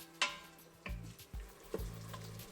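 Tomatoes cook down in a pan, giving a faint, steady sizzle with a few sharp metallic clinks from a utensil striking the pan.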